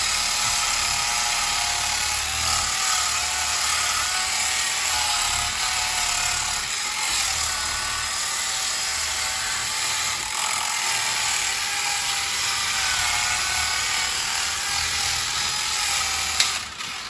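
A polishing machine on speed 1 works a pad over a Mustang wheel, giving a continuous close whirring whine with a faint mechanical rattle, steady and unbroken, with no voices.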